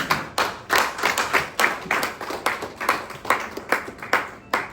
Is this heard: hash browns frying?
no